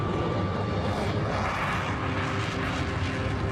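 A Tupolev Tu-144 supersonic passenger jet powered by four turbojets sends out a loud, continuous broadband engine roar that holds steady throughout with no voices.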